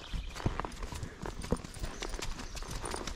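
Horse hooves clip-clop at close range on a farm, with several sharp, uneven strikes over steady outdoor noise.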